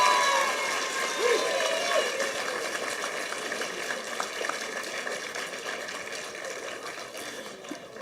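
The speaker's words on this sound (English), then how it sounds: "So give her another round of applause" Audience applause filling a school award assembly hall, a broad steady wash of clapping that starts strong and gradually tapers, heard from within the room.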